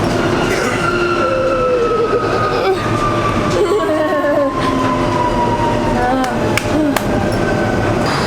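Onboard a monorail train in motion, a loud continuous rumble of rolling carriages carries thin wheel squeals and occasional clicks, with faint voices beneath.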